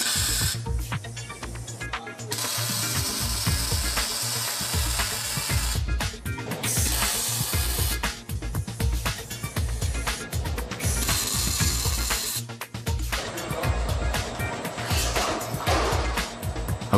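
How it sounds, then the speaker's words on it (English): Manual welding at the corners of a steel wood-burning stove chamber in a factory, a continuous crackling hiss with buzzing pulses and workshop hum throughout, no speech. "The corners are welded manually to hold the pieces in place."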